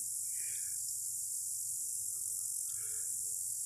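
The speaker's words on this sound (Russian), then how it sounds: "А слышите, как стрекочут кузнечики? Очень громко, ярко, сочно." Grasshoppers chirp loudly and continuously in the village of Cherga in the Altai, a dense unbroken shrill buzz filling the air, with a few faint softer chirps rising over it now and then.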